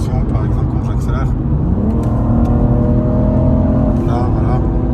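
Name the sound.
BMW M440i xDrive engine revving as driver accelerates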